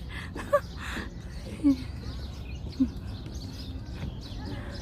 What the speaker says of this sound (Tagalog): Sarap talaga pakinggan yung mga huni ng ibon.